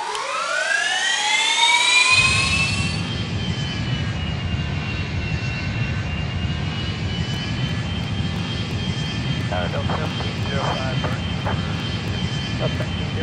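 Airbus A320 jet engines spooling up for takeoff in the flight game Airline Commander, a rising whine that settles into a loud, steady roar with a high tone on top and brief alarm-like chirps.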